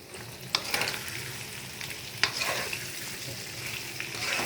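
Potato pieces stirred in a hot oily pan with salt and turmeric, steady sizzling and frying hiss punctuated by sharp scraping stirs of a spoon against the pan, close and alone.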